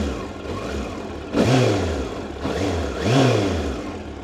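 Suzuki GSX-R K8 motorcycle engine, warm, gets two sharp throttle blips that rise and fall over a steady idle, loud and close with no talking.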